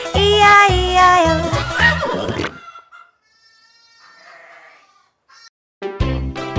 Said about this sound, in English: And on that farm he had some sheep, E-I-E-I-O.